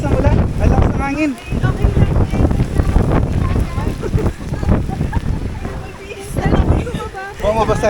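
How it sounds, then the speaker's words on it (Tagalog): Strong wind buffets the microphone aboard a boat in heavy rain, a loud roaring rumble with water noise throughout, while people talk and exclaim over it. "Grabe lakas ng ulan. Ang lakas ng hangin."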